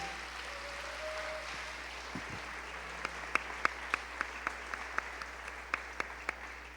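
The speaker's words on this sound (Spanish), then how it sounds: "Dele una ofrenda de palmas al Señor, por favor." Rhythmic clapping from a church congregation, starting faintly and settling into a steady beat of sharp claps in unison over a quiet room.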